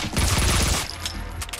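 Rapid gunfire from a prone position in the Max Payne 2 video game, a loud burst of dense shots that quickly falls away to lighter, scattered noise.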